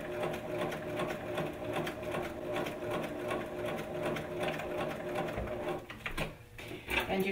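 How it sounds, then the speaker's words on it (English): A sewing machine runs long basting stitches along a sleeve cap, a steady close rapid needle patter that continues for several seconds before slowing and stopping near the end, with no talking. "begin doing the long basting stitches for this sleeve cap"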